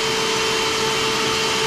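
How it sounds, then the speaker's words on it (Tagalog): A household vacuum cleaner runs loud and steady, a constant whine with a strong tonal hum and broadband rush, unbroken throughout with no other sounds. "bubuksan ko itong vacuum"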